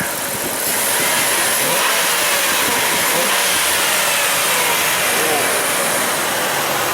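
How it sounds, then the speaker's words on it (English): A Dodge Ram 1500 pickup engine idles steadily and smoothly with a constant low rumble, close by, with no voices over it. "Truck sounds nice and smooth."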